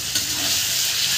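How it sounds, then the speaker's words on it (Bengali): Garlic-ginger paste stir-frying in a hot pan, a continuous bright crackling sizzle with a small bump near the start as it is stirred, loud and close. "এটা দিয়ে আমি বেশ কিছুক্ষণ কষিয়ে নেব"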